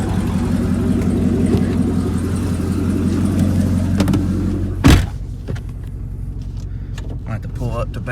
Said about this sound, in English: I'm gonna roll the windows down that way you guys can just hear how great the car actually sounds.